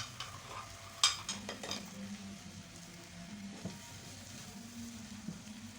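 Tomatoes softening in a pan for dal with bitter melon give a quiet, gentle sizzle under steady stirring, with a brief clink of a spoon against the pan early on.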